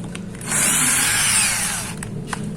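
A Ryu RCD 12V cordless drill drives a screw with its stock screwdriver bit, a loud high whirring burst of about a second and a half that rises and falls, set between quiet tapping and handling noises.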